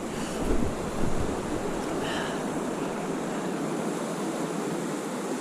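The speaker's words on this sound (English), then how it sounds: "this is a really cool looking stretch of river, this Hamilton Branch" Hamilton Branch river in the lower Cascades runs over volcanic rock, a steady broadband rush of flowing water that fills the scene evenly and continuously, with no talking.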